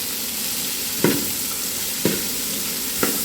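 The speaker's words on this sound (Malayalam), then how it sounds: "വെളുത്തുള്ളി മൂത്ത് കഴിഞ്ഞിട്ട് കഴിഞ്ഞിട്ടൊന്ന് സവാള ഇട്ട് കൊടുക്കും" Chopped garlic and onion fry in a pan for gobi manchurian, a constant hissing sizzle with three soft, evenly spaced stirring knocks close up.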